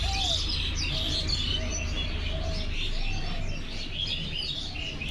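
Small birds chirp and tweet in short repeated calls over a steady low outdoor rumble, with a few brighter whistled notes standing out now and then; no one speaks.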